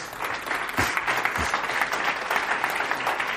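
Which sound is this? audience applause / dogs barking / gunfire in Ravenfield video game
audience applause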